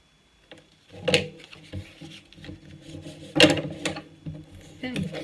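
Paper card is cut at an angle while making a cascade album card, with a few close, crisp scraping and rasping strokes and soft handling rustles between them.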